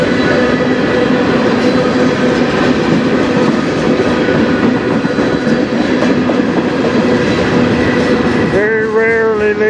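A CN freight train hauled by locomotives rumbles past steadily and loud, with dense rolling wheel noise throughout and a sustained horn-like tonal blare rising near the end.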